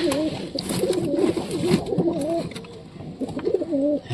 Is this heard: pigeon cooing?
yes